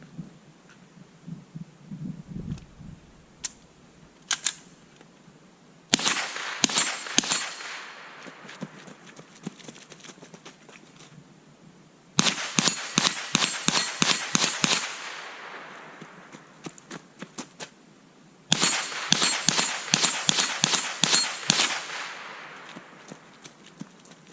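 Rapid bursts of .22 rifle fire from a budget 10/22 with a binary trigger, shot at a steel target about 25 yards away on a range; three long strings of fast, sharp cracks with quick doubled shots, separated by short pauses.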